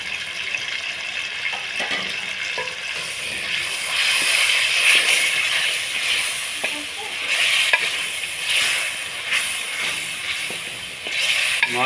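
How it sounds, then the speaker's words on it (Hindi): Mashed tomatoes hitting hot oil with browned garlic in a frying chicken karahi: a loud, close, steady hiss and sizzle that swells midway, with wet bubbling and occasional stirring scrapes. "अब मैश किए टमाटर इसमें डाल देंगे।"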